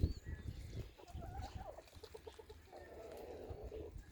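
Chickens cluck softly and intermittently in a wet, muddy fowl yard, a few close, irregular calls against quiet background.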